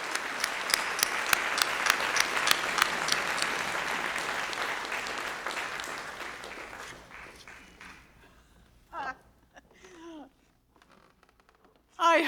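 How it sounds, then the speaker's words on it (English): An audience applauds to welcome a speaker at a South Asian art lecture series, dense clapping that swells early and fades out over several seconds, followed by a few isolated sounds and the start of a voice near the end. "a wonderful round of applause"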